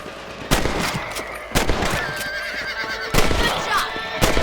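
Several sharp rifle shots ring out at intervals in Red Dead Redemption while hunting rabbits, each crack loud and close, with a horse whinnying in between and faint talk underneath.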